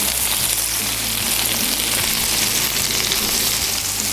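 Sliders frying on a Blackstone flat top griddle: a loud, continuous close sizzle with dense crackling throughout and no voices.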